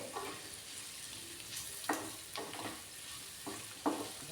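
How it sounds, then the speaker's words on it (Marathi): Chopped raw green mango stirred into onion in a pan over low heat: soft, quiet scraping and stirring strokes with a few sharper clicks of the spoon, against a faint background hiss. "टाकूया आपण हा बारीक चिरून घेतलेली कैरी थोडेसे मिक्स करून घ्यायचं"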